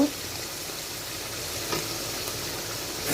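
Whole garlic cloves fry in a spice masala for chicken bhuna, producing a soft, steady sizzle and crackle close by, with a couple of faint stirring knocks.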